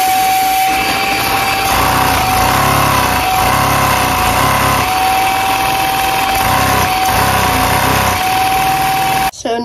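A Lego 6x6 vacuum engine runs dry without lubrication, giving a steady, loud mechanical churn with a rhythmic pulsing chug and a constant high whine, stopping abruptly at the end.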